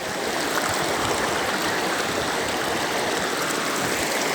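A stream with a strong current gives off a constant rushing, splashing wash of water, close by and unbroken, with no voices over it.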